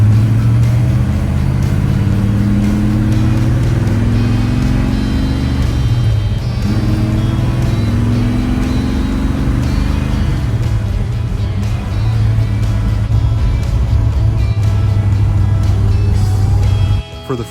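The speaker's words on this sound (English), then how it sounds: "This is the first time since 1974 this 55 Chevy has had exhaust all the way to the bumper." Deep, rumbling exhaust drone from a 1955 Chevy fitted with a new Flowmaster exhaust running to the bumper, heard continuously and close from inside while it cruises up a road, with faint voices now and then.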